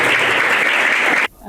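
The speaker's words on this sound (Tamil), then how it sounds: "இந்த வேலையில் அவருக்கு ஒரு பலத்த கைத்தட்டு கொடுத்து" Dense, loud applause from an audience at a Malaysian Tamil school event rolls on steadily, then cuts off abruptly near the end.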